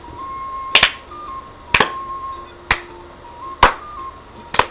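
Synchronized clapping sound effect in an Ace Attorney fan-made case game, five sharp evenly spaced claps about a second apart over a faint electronic music backing.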